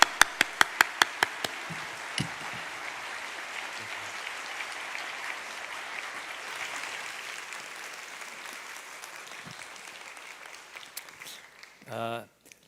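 A church congregation applauds to welcome an elder to the front, with a few sharp claps at first, then sustained moderate clapping that fades near the end as a voice begins.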